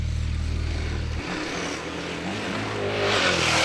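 A KTM adventure motorcycle climbing uphill gives a continuous engine drone that shifts pitch after a second, then swells and rises as it accelerates, with strong wind rush over the final part.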